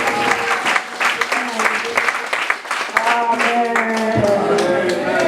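A church congregation applauds and acclaims God, with loud, sustained clapping mixed with voices raised in cheering and shouting throughout.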